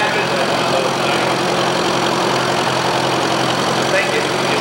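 An old Mammy tractor engine idles at a 1985 youth fair parade in Wharton, Texas, a close, steady, throbbing chug that stays at an even level for the whole stretch.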